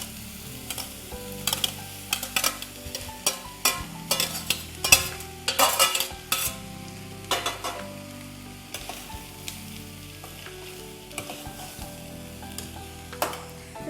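Carrots and beans sizzle in a hot pan with onion for a beans carrot thoran, a steady fry broken by repeated close spoon scrapes and clinks as the vegetables are stirred, with no voices over it.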